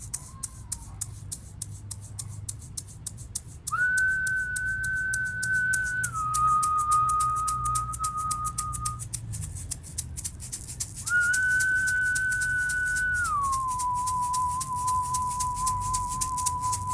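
Sustained whistle tones sound during an offering ritual to the ancestors, each held several seconds and stepping between pitches, over a faint rattling, ticking background with no talk.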